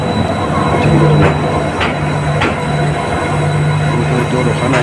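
A train arrives at the platform of Guwahati railway station, its steady rumble joined by a sustained tonal hum and a few sharp clanks, loud and close, with station noise around it.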